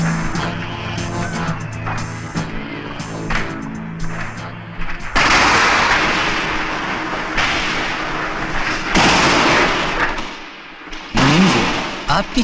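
After a stretch of music in a 1988 Hindi film, a burst of rapid cracking firecracker explosions erupts, loud and dense, popping in quick overlapping volleys with a few heavier booms.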